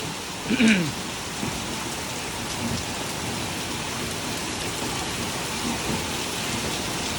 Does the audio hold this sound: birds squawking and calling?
no